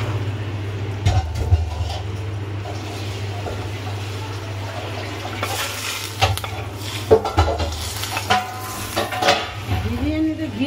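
Cashews and raisins being stirred in hot ghee in a pan for mutton biryani, a soft sizzle under repeated scraping and clinks of a metal spoon against the pan, close up, with a steady hum beneath.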